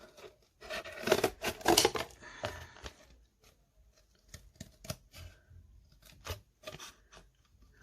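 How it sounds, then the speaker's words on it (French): Scissors cut around a plastic bottle, making a close, irregular series of crisp snips and crinkling plastic, busiest at the start and then sparser, with no voices. "On prend les ciseaux et on fait le contour"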